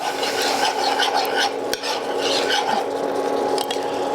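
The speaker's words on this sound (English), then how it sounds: "We stir that in." Jalapeno being stirred into hot baked beans, a close, loud, continuous scraping and sloshing of a spoon against the pot with a wet, thick texture and one sharp knock partway through.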